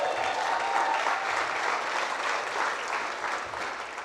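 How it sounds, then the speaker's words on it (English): An audience at a church gathering claps steadily, a dense, even wash of many hands applauding throughout with no voices standing out. "You guys can clap for that, by the way."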